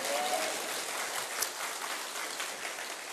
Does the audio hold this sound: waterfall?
no